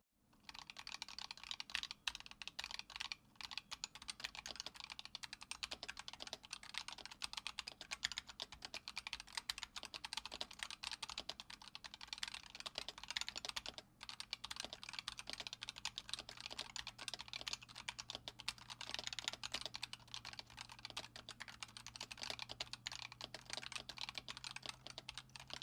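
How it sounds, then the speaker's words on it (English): Fast, steady typing on a Razer keyboard with linear optomechanical switches, a dense run of close keystrokes that continues for the whole stretch with no voices. "We'll do a sound test with the linear optomechanical switches."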